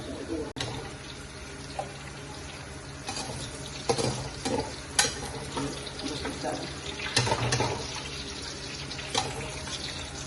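Bottle gourd pieces fry in a pan with a steady broadband hiss, interrupted by several sharp clatters and scrapes of a utensil, all close and fairly loud without any talking.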